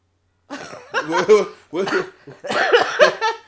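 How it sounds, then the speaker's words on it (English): A run of several harsh coughs, close and fairly loud, coming in quick bursts with short breaks between them. "I'm sorry, I had to cough"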